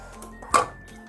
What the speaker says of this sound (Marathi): कढई पण प्रीहीट झाली, आता त्याच्यामध्ये हे ताट ठेवून देते